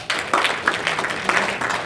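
Audience applause at a tech meetup: a short burst of clapping from a seated crowd, fairly close and steady for about two seconds.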